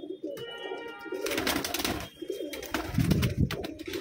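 A flock of about fifteen black pigeons coos nearby, with soft, repeated throaty calls overlapping each other, along with some rustling and a few chirps.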